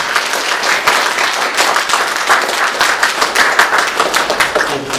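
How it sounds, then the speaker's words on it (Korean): Church congregation applauding during a Sunday worship service, loud steady crowd clapping with crisp individual claps throughout. "다시 한번 박수해 주시기 바랍니다."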